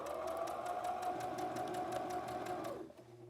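A sewing machine runs steadily, stitching in a continuous close hum with rapid needle ticking, then stops abruptly near the end.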